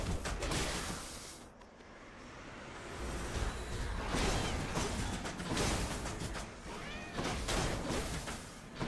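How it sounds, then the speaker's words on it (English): Chariots in the Hades video game make cat-like meows and yowls, repeated over a loud, busy mix of swooshes, crashes and game effects. "if you notice that these chariots sound like cats, you are correct"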